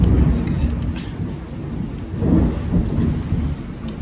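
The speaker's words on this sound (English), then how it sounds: "As you can hear, the rain's outside" A thunderstorm rumbles outside with steady rain, a continuous low roll of thunder under a dense hiss of falling water, swelling slightly midway.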